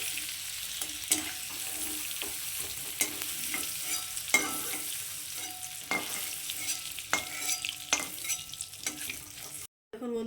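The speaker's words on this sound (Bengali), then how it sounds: "দেখুন আমরা পনিরগুলো হালকা ভেজে নিয়েছি এখন পনিরগুলোকে আমি তুলে নিচ্ছি" Paneer cubes frying lightly in oil in a kadai, with a continuous close sizzle broken by occasional sharp spatula scrapes and taps against the pan.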